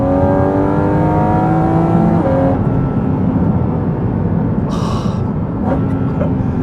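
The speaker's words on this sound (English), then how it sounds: "just the downshifts. Like I've got a pack of angry wolves barking in the back of the car" A sports car engine snarls through downshifts, loud and close, with a rising-then-dropping harmonic roar, sharp crackles and pops near the end.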